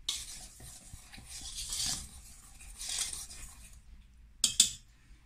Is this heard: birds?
no